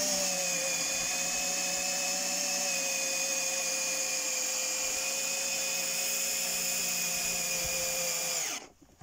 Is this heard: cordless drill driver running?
yes